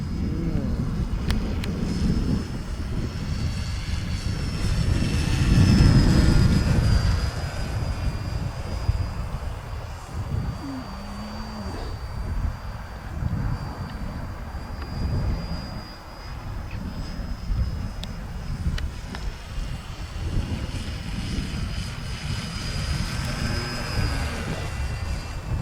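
An FMS FW 190 model airplane drones steadily overhead on a windy day, its motor whine rising and fading as it passes, with wind buffeting throughout and no talk.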